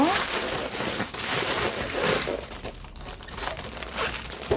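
Plastic sheeting crinkles and rustles in a kitchen sink while salted napa cabbage is packed for kimchi, continuous close handling noise with crunchy bursts, under a woman's speech.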